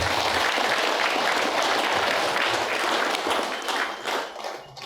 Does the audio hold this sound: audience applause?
yes